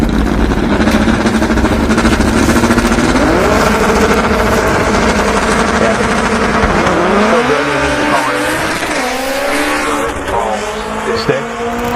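A 1999 Honda Civic drag car roars loudly, revving and shifting up through gears as it accelerates away down a drag strip, with an announcer talking over it.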